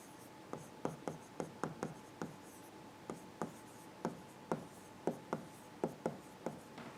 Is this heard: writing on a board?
yes